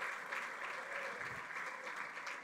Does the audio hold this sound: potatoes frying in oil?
no